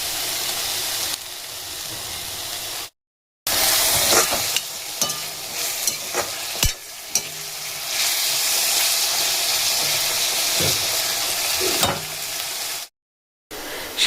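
Oil frying in a pan while onions are browned for a mutton biryani, a steady loud hiss with stirring scrapes, broken by two short silent gaps.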